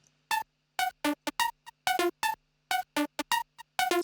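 Short bright bit-crushed synth plucks with a gritty, crunchy edge, played in an uneven rhythm of about a dozen notes separated by silence.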